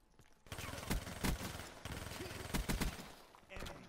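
Gunfire from the video game Black Ops 3, rendered as dense bursts of rapid shots and sharp cracks over a continuous din of game sound. The shooting runs for several seconds and is loud and close, with faint voices in the background.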